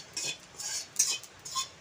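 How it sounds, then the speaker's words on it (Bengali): Whole cumin seeds being stirred and dry-roasted in a hot pan make quick, close metallic scrapes and clinks in repeated strokes, each a short bright rasp, with no voices. "একটুখানি ভালো করে নেড়েচেড়ে ভেজে নেবো"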